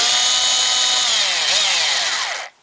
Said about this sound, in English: Got the cover back on again. Just going to tighten up the screws.